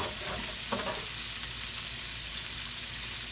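Sandwich buns toast on a hot griddle with a steady, even sizzle for a crispy buffalo chicken sandwich, a brief soft clatter near the start and no voices.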